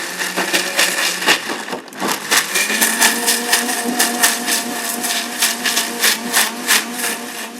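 A kitchen blender grinds coconut and tomato for a South Indian fish curry, whirring loudly with a rough, pulsing churn and rhythmic surges as the pieces are chopped.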